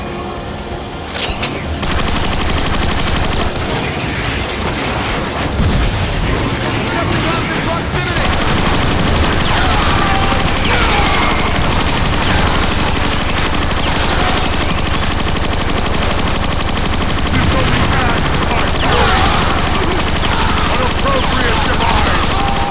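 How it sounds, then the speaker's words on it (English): A Scrap Maker gun from Transformers: Fall of Cybertron fires without a break until it runs dry, a loud, dense, roaring stream of rapid shots and explosions that fills nearly the whole stretch after a brief quieter start. "Running a scrap maker out of ammo is something that I will never get tired of"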